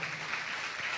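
A church congregation claps in praise of God, a fairly soft, even patter of many hands that continues through the whole brief moment without pause.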